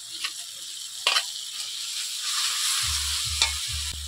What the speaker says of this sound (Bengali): অল্প জল দিয়ে মশলাটা ভালোভাবে কষিয়ে নেব।